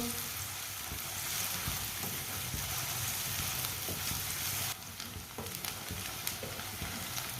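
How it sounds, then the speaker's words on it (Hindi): Onions frying lightly in a pan for kaleji masala, with a steady, dense sizzle that runs continuously at close range and dips a little partway through, with no voices. "प्याज को हल्का सा ब्राउन कर लेंगे। फुल ब्राउन नहीं करना प्याज को।"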